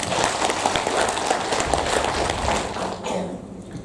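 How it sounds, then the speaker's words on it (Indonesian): Teachers at a competency training workshop applaud together, producing a dense, even patter of many hands clapping for a few seconds before it thins out at the end. "Tepuk tangan untuk kita semua."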